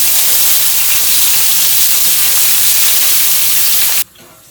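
Paella ingredients sautéing in hot oil, giving a loud, dense, steady sizzling hiss held close for about four seconds before it drops off suddenly to a quiet background.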